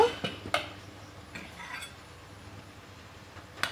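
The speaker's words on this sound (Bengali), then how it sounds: "এখন আমি কিছুক্ষণের জন্য ঢাকনা দিয়ে ঢেকে দমে বসিয়ে রাখব" A metal lid clinks onto a pot of layered chicken biryani set to rest on dum, with a couple of sharp clatters at the start and a single clink near the end, all fairly quiet.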